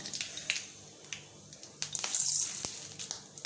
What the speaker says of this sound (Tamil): எண்ணெய் காஞ்ச உடனே நம்ம கடுகு பருப்பு, காயப்பொடி இதெல்லாமே போட்டுடலாம்.